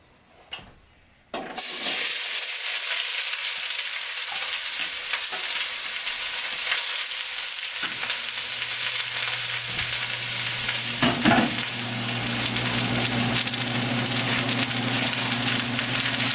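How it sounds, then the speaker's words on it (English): Onions caramelizing in hot olive oil in a pan for onion soup give a steady, loud broadband sizzle that starts abruptly after a brief quiet opening and continues unbroken, with occasional stirring knocks. "I'm going to heat it up the olive oil, and then I will caramelize the onions in it."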